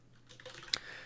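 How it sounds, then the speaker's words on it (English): Close, quiet typing on a computer keyboard, a quick irregular run of soft key clicks with one sharper tap. "you can really jam when you're typing along here"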